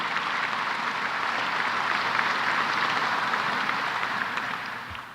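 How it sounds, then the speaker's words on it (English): An audience applauds steadily for a Port Authority chairman and board at a CUNY event, a dense, loud wash of clapping that holds for several seconds before tapering slightly at the end. "give Chairman O'Toole and the Port Authority Board a big round of applause"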